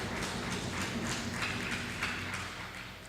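Audience applause for a chamber of commerce marking its 135th anniversary at a trade fair, a steady, fairly distant wash of clapping holding evenly for about three seconds.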